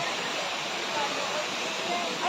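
Ragatak Falls in Maragondon, Cavite pours in a steady, broadband rush of falling water, heard close and continuous.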